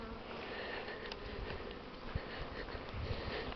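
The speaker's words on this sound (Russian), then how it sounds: "Вот в этом улье облетик дружный." Local-breed honeybees buzzing around their hive during a winter cleansing flight in December, a dense steady drone of many bees close by, with faint crunching footsteps underneath.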